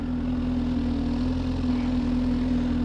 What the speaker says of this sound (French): Le bruit je l'entends vraiment au niveau du moteur.